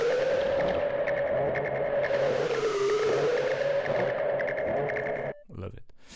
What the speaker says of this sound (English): It's a distortion with filters, very high resonant filters, so you can really have this kind of sounds.